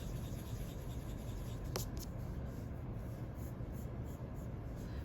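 A rubber eraser rubs out a pencil drawing on paper with a soft, continuous scratchy rubbing, faint and close, with no talking.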